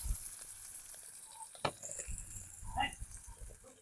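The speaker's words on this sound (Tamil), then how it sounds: "வெங்காயம் வந்து ஓரளவுக்கு பொரிஞ்சு கொண்டு வரேன்" Onions frying in a pan for a village-style sudai fish curry, a soft, steady sizzle with a sharp utensil clink partway through and some faint stirring movement, quiet and close.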